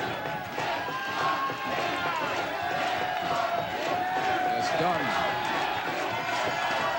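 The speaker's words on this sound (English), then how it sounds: "Listen to the crowd." A large concert crowd at a show roars and cheers without letup, a dense wash of voices and shouts that stays loud throughout while the audience waits for the band to return to the stage.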